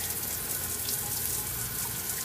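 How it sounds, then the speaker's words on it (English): Shower water running in a steady, close rush of falling water with no break, alone without voices. "It's a shower."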